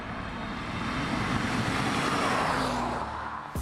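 A 1992 Lotus Carlton accelerates hard in third gear from 50 to 70, a sustained rising engine roar with wind and road noise from inside the car, ending with a brief click.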